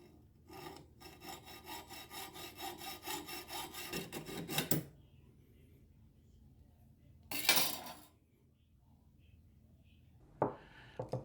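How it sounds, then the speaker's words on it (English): A pepper grinder rod of Bunya Bunya wood being cut at a workbench, with a steady rhythmic back-and-forth sawing for about four seconds, then a short burst of rasping and a few faint knocks near the end. "So I'm going to have to go over to the bench and cut part of it off."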